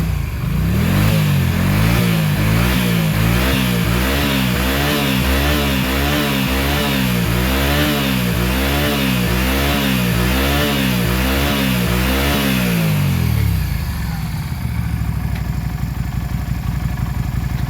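A 2004 Yamaha XVS 125 Drag Star motorcycle engine revs hard and loud in repeated rising and falling surges, then cuts back to a low idle near the end.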